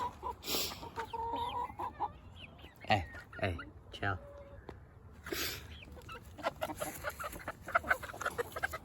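Chickens cluck and squawk close by in short irregular bursts, while a person speaks briefly between the calls.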